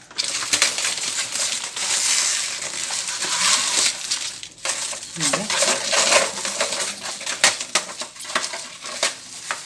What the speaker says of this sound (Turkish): Şimdi streçlerini çıkartıyorum.